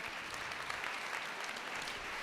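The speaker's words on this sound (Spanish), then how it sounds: "Un aplauso, por favor, para ellos" Dense, steady applause from an audience at a Three Minute Thesis contest final, many hands clapping together at an even level throughout, with no voices rising above it.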